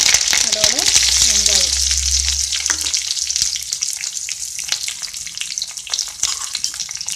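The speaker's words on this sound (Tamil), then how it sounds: "இப்போ கடுகும் கடலைப்பருப்பு பொரிஞ்சிருச்சு" Mustard seeds and chana dal spluttering in hot oil, a dense continuous crackle and sizzle with a low hum early on, close and loud throughout, with no speech.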